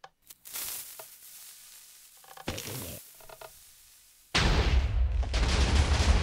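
TNT-filled cannon firing in a video game, a crack followed by crackling blasts and scattered bursts, then a sudden loud, sustained roar of explosions and debris filling the last two seconds.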